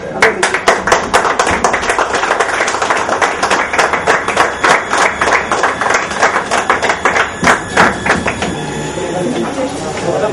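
Crowd clapping at a flood relief meeting, a loud, fast, steady burst of many hands close by, with voices murmuring underneath.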